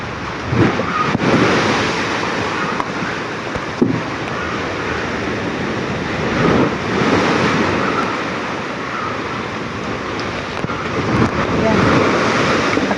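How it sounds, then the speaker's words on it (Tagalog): Heavy typhoon surf roars continuously with repeated crashing surges reaching houses, wind buffeting the microphone throughout. "ang laki-laki ng alon yun"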